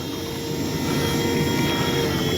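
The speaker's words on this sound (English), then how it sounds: "let's get ourselves a nice low flow-by, or a nice lower flyby" Steady whining engine drone of an Avios Albatros V2 RC plane passing low overhead, loud and continuous with no talk.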